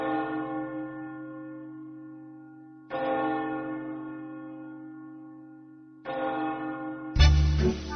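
A bell rings three times at even intervals, each strike ringing out in a long, slowly fading tone before the next, with a brief louder burst of another sound cutting in at the end.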